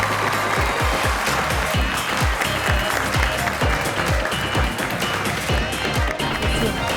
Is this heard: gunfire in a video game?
no